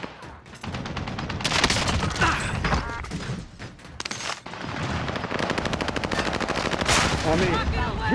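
Rapid automatic gunfire in Call of Duty: Warzone, long close bursts of machine-gun fire broken by short pauses, loud and dense, with players talking now and then.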